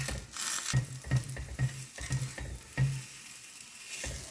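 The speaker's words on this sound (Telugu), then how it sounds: "మీడియం ఫ్లేమ్ పెట్టుకొని అన్ని వైపులా తిప్పుతూ కాల్చుకోవాలండి" Dal chapati roasting in oil on a pan over a medium flame, with a steady low sizzle broken by repeated scraping and flipping strokes at an even, unhurried pace, close up and alone.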